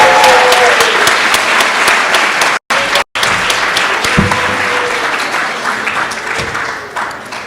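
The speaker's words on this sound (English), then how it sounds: "Let's give one more big round of applause for our graduating class of" Loud, sustained applause from a large audience honoring the graduating 2024 pediatric residency class at Stanford, steady dense clapping with cheers and a couple of brief dropouts before tapering slightly toward the end.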